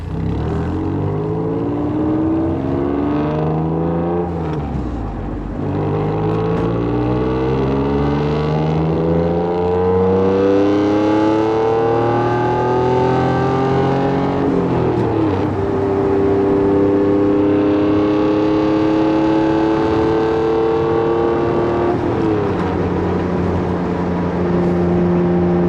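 An Acura NSX driven on an open road, its raw exhaust droning loudly and close as the engine climbs through gears in long rising sweeps, with brief dips at shifts and a sustained high-revving pull, no talking.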